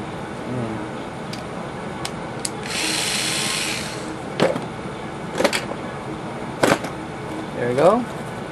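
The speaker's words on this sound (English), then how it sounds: "I'm going to drill a hole into this plate right about here." A power drill boring a hole into a tablet's back plate, a steady whirring burst of about a second and a half, followed by sharp clicks and knocks, with a voice talking at moments.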